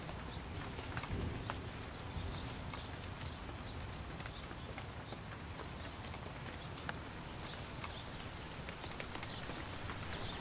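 Steady rain falls outdoors on a trail near a water hole, a dense even patter of drops spread across the whole stretch with a few sharper drips standing out, with no voices.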